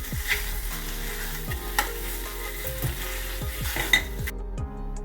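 Khoa roasts in a pan, a steady close sizzle broken by repeated scraping stirs of a utensil against the metal, with no voices.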